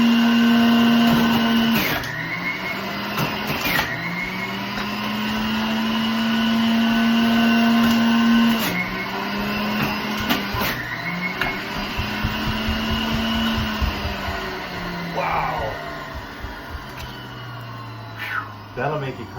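A home juicer grinds apples for fresh juice, its motor whine rising and dipping in pitch as fruit is fed in, with knocks and rattles along the way and a voice speaking over parts of it.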